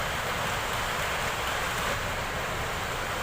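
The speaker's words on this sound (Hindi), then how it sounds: "और बारिश भी गिर रही भाई, एकदम खतरनाक वाले।" Heavy rain pours down steadily, a dense, loud, unbroken hiss and wash of falling water with no letup and no voices.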